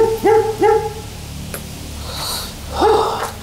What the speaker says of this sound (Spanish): ¿qué es? Un perro.